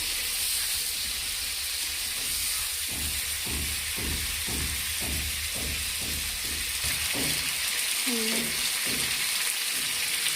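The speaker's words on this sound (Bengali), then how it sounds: "আলু ভেজে রান্না করছি, আজকে নিরামিষ আলু ভাজা" Thick-cut potatoes fry in hot oil for a plain vegetarian potato dish, giving a steady close sizzle and hiss. Rhythmic stirring scrapes come through the middle of the clip, and a couple of brief squeaks follow near the end.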